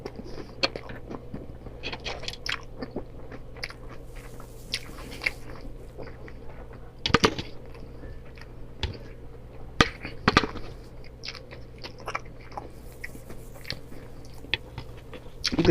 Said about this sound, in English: I'm just gonna have to eat this